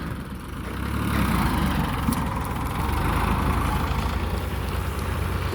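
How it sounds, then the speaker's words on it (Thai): A YCO farm tractor with a 45-horsepower three-cylinder engine idles at close range, a steady loud low rumble that stays even throughout, with no talking. "เดี๋ยวผมพามาชมรถไถแชมป์นะครับ"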